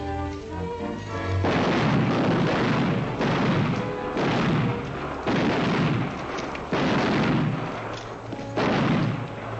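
Gunfire in a 1940 western film: a series of about six heavy, booming shots at roughly even intervals, loud and reverberant, each blast trailing off before the next, with no talk over it.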